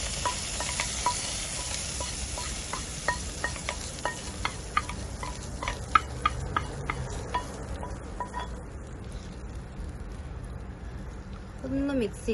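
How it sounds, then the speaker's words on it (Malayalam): Hot tempered spices in oil are tipped into a pan of curry made with raw mango, setting off a close sizzle and stirring scrapes, while a person talks over much of it. "നമ്മൾ ചട്ടിയിലോട്ട് ഈ താളിച്ചത് കൊടുക്കാം"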